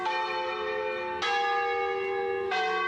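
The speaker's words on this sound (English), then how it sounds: "Ancient church bells" Church bells in the Lake Como village of Bellagio ring out clearly, three resonant strikes about a second apart, each leaving a long shimmering decay.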